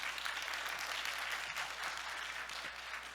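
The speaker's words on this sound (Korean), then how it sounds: "주한규 교수님을 큰 박수로 맞이해 주시기 바랍니다" Audience applause greeting Professor Joo Han-gyu, a nuclear engineering professor, at a Seoul National University staff monthly lecture; steady, dense clapping from a large room held at an even level throughout.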